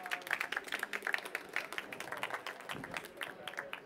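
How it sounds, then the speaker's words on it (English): An audience claps to welcome a speaker at an education technology event, a fairly faint, scattered round of hand claps that stays steady and then thins toward the end. "Please welcome Ian with a warm round of applause."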